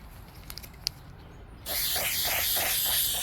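Clear coat spraying from an aerosol can over a painted, upcycled table, a steady close hiss that starts abruptly after a few faint clicks and runs without a break.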